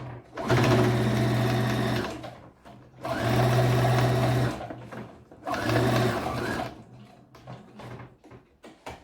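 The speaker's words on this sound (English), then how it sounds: "So I'm going to sew the pocket round now." A sewing machine stitches round a gown pocket in three loud bursts of rapid whirring, each a couple of seconds long, separated by short pauses and faint handling noise.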